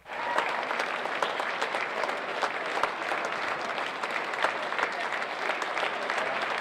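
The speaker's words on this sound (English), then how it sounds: "as the heroes stream out, the applause goes on and on" Crowds in an airport terminal clap for veterans arriving on an Honor Flight. The applause is continuous and lively, with distinct individual claps popping out of the steady roar.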